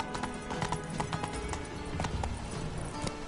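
The horse Roach gallops in The Witcher 3, a rapid, steady clip-clop of hooves close by and fairly loud, running continuously without pause.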